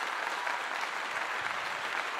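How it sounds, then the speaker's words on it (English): A burst of steady, dense clapping from a group fills a short moment of a casual sports talk show, even and unbroken throughout. "Let me give you a clap for that."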